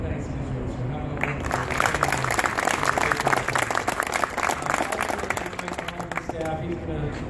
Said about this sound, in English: Dan also gets a round of applause